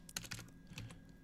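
Computer keyboard keys pressed for a Control C copy shortcut, a few quick close clicks in a short burst with no talking.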